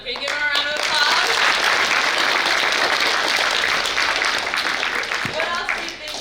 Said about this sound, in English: Can you give them a round of applause?